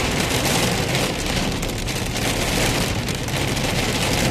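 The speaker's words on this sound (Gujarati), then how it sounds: "એકદમ જોરદાર વરસાદ" Heavy, sudden rain pours down in London, a dense, loud and continuous hiss of drops drumming on surfaces with no pauses and no voices.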